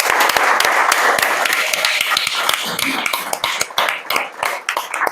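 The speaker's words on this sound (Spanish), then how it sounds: "Así que nada, pues un aplauso para Ari." Audience applauding at a live talk session on future feminisms: a dense wash of clapping hands, steady and fairly loud, thinning slightly toward the end with individual claps standing out.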